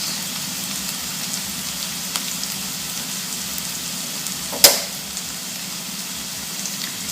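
Red onions fry in a pan with a steady, close sizzle and crackle throughout, plus one sharp tap partway through.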